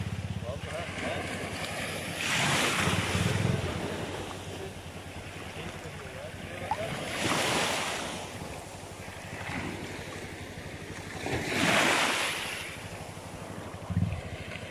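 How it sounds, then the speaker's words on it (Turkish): Black Sea waves break at sea level on the coast at Kefken, Turkey, at sunset. Steady wind-buffeted surf rises into several broad surging swells a few seconds apart. "Dalgalar suya vuruyor."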